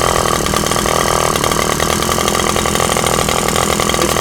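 A Maruyama or Shindaiwa primer-fed bushcutter engine runs loud and close, a continuous buzzing two-stroke drone with rapid firing pulses and no pauses throughout.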